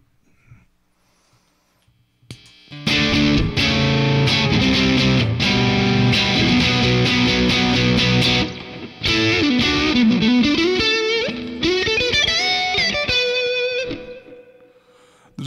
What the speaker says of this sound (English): The distortion's a little bit less aggressive on the germanium.